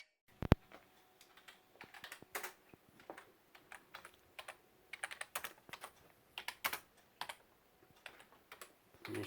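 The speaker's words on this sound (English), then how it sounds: "There's Junior typing up our news report for today." Fingers tap a computer keyboard up close in irregular bursts of sharp clicks and keystrokes, pausing briefly between runs, with no voices.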